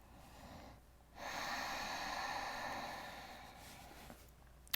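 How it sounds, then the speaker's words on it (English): A long, steady breath during a hip-opening yoga stretch, heard close and alone. After a short quiet pause it flows evenly for about three seconds and fades out near the end. "Let's take just a couple of breaths here."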